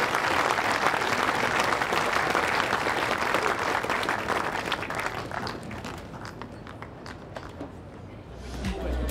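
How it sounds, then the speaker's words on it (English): Sustained audience applause at the 2023 World Bowls Championships for the men's singles medalists, loud and dense clapping from the crowd at first, thinning and fading gradually, with a brief swell near the end. "Please give another massive round of applause for our men's singles medalists."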